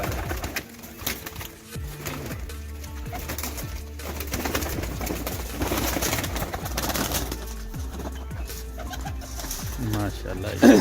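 Flying pigeons, including Teddy-type birds, coo steadily at close range in a busy loft, their low rolling calls overlapping throughout amid a dense background, with occasional voices faintly mixed in.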